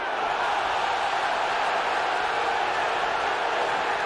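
A large stadium crowd at an NFL game between the Bears and Bills in 2002 murmurs and roars steadily, reacting to a replay on the Jumbotron, a continuous broad wash of distant voices throughout.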